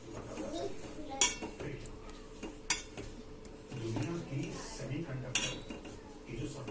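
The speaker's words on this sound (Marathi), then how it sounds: "त्याच्यामध्येच गूळ टाकून घ्यायचा आहे आणि गुळाचा पाक बनवायचा." A spoon stirs jaggery melting in a pan over a medium flame, with soft scraping and occasional sharp metallic clinks against the pan rim. The sounds are close and intermittent over low kitchen background.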